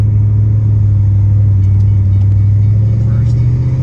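Car engine idling loud and steady, with a low rumbling drone and a slight rise in pitch toward the end, in a GT2 fitted with 80-pound fuel injectors; a voice speaks faintly over the engine.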